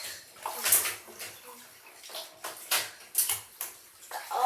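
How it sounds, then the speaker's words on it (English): Silicone pop-it fidget toys are washed in water, with repeated wet splashes, squelches and sloshing in an irregular rhythm, close and moderately loud. "I like it when you wash your poppets"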